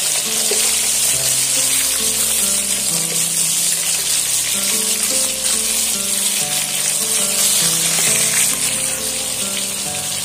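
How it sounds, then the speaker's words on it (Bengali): Rohu fish pieces fry loudly and steadily in hot oil in a pan, a dense continuous sizzle with no talking. "এখানে আমি মাছগুলো সুন্দর করে একদম লাল লাল করে ভাজা করে নেব।"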